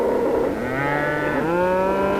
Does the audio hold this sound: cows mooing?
yes